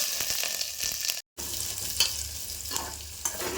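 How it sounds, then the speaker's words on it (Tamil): Onion, garlic and curry leaves fry in hot oil in a pan with a steady close sizzle, broken by stirring scrapes and one brief silent gap. "வெங்காயம் பூண்டுலாம் கொஞ்சம் நேரம் வதங்கட்டும்."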